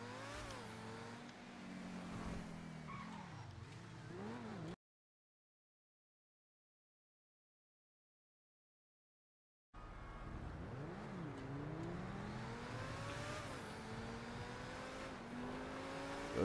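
A video game car engine revs and whines as the car is driven, pitch rising and falling through gear changes, cutting out for several seconds of silence before resuming at similar moderate level.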